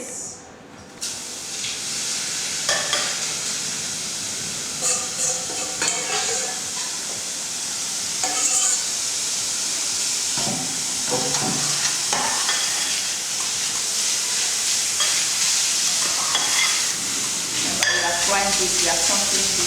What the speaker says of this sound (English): So I'm going to toss in my onions and my garlic. Stir fry this for about